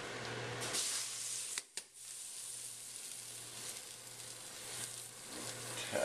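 Pasta cooking in a pot for fettuccine Alfredo gives a steady, soft hiss and sizzle throughout, broken by a brief near-silent gap, with a low hum underneath.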